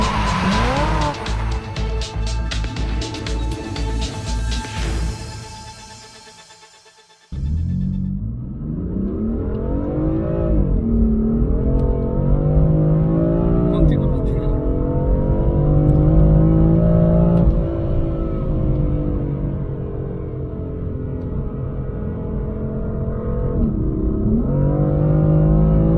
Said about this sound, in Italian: andiamo subito a provare questo fantastico BMW